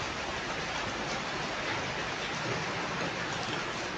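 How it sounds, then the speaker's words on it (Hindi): Steady rain falls over Solan, Himachal Pradesh, a dense, even hiss of drops that holds without a break from start to finish, with no voices heard. "सोलन में अब जो तेज़ बारिश थी अब वो हल्की हल्की हो गई है"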